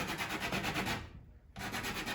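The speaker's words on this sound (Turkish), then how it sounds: "izler çıkacak kadar zımparalarsak hem alttan hem de yandan her taraftan tutmuş olacak" A wooden door threshold is sanded by hand in close, steady rubbing strokes, with a brief pause midway before the sanding resumes.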